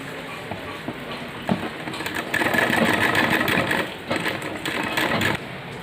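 A sewing machine stitches a fabric strip laid on paper for a narrow palazzo pant, a close mechanical whirring run that starts and stops in short bursts, louder in the middle, with no talking.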